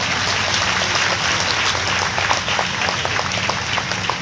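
Congregation clapping at an annual church assembly, a dense, steady wash of many hands that stays loud and close throughout, with faint voices mixed in underneath.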